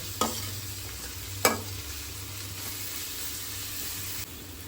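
Ginger-garlic paste and green chilli paste sizzle softly in hot oil in a pan, with two sharp utensil taps early on over a faint steady fry and a low background hum.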